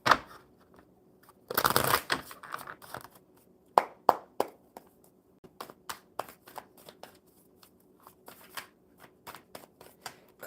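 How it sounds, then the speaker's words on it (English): A deck of tarot cards is shuffled at close range: a dense riffling burst near the start, then a long series of sharp, crisp card snaps and taps at uneven intervals, with no speech. "One more good shuffle."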